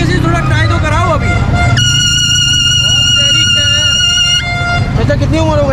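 A vehicle horn is sounded at a passing motorcyclist on a busy street. It gives one loud, steady blast of about two and a half seconds, with voices and street noise before and after.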